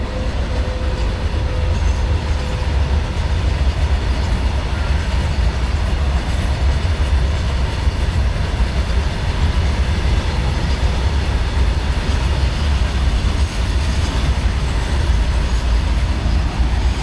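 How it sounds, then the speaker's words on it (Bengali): A freight train with many wagons rumbles steadily past close by in a village in the morning, a loud continuous roar of wheels and wagons that never lets up. "আজ দেখুন সামনে দিয়ে একটা মাল ট্রেন যাচ্ছে"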